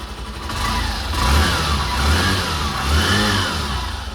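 A Hero Glamour 125 motorcycle engine runs steadily near the listener, with two or three rising revs swelling over a low, continuous hum and no voices.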